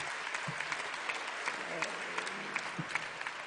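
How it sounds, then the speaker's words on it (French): Sustained applause from a seated crowd at a French Communist Party congress: a steady, even wash of many hands clapping at moderate volume for the whole stretch, with no pauses. "Je crois que vos applaudissements"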